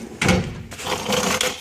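A drawer of an autobody technician's tool box slides open or shut, a short scraping rattle followed by a quieter second slide, close and clear.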